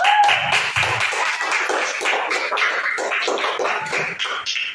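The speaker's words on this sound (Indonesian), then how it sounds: "selanjutnya tepuk tangan untuk kelompok PLTA Mikrohidro" Classroom clapping from students for a micro-hydro power group; a quick run of close, sharp hand claps from a small group, lively and uneven, with no talking.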